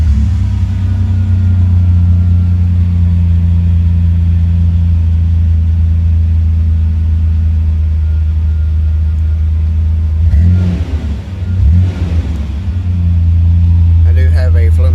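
A car engine with a Flowmaster exhaust idles with a deep, steady rumble, briefly dips and surges as it revs, then settles back to a loud, low hum.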